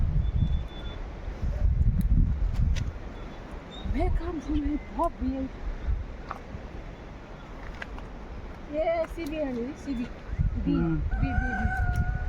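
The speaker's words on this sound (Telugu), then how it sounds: "ఊర్లో కోడి కూసిందనమాట" A rooster crows a few times in a Sikkim village, its drawn-out calls rising and falling over low rumbling background noise, with some voices nearby.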